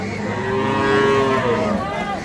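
A bull on a cattle farm in Chattogram, Bangladesh lets out a long, loud, drawn-out moo close by, rising and then tapering off.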